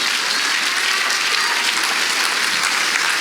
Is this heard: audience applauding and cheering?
yes